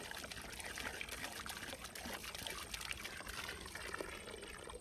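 Fresh water pours into a container for a beehive water supply outdoors, a faint continuous trickling and splashing stream with steady hiss, no talk over it.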